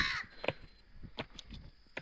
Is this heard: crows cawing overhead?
yes